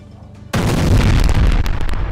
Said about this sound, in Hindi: और बड़े धमाके के साथ ये पुल टूट गया जिस पर यह हमला किया गया